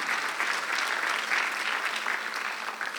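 A church congregation claps through a Sunday worship sermon, dense continuous applause from many hands, steady and moderately distant with no voice over it.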